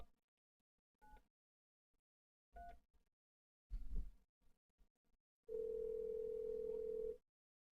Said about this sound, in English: Ed's making a phone call.